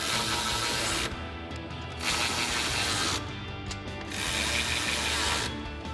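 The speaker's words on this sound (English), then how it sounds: "we can grab our 13mm socket on our ratchet and tighten these down" Ratchet fitted with a 13mm socket tightening bracket bolts for running boards on a Ford F-150, giving loud, dense continuous clicking in three long bursts with short pauses between, close by.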